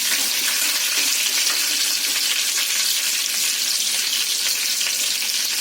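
Cumin, mustard seeds and garlic frying in hot oil for cabbage masala, a steady dense sizzle and crackle filling the whole stretch without pause, close and fairly loud, with no talking.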